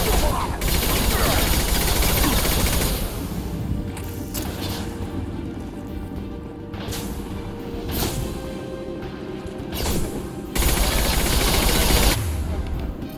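Sustained gunfire in Mass Effect 2 Legendary Edition, a dense, loud fusillade of rapid shots and bursts that pauses briefly and resumes, with voices talking over the battle.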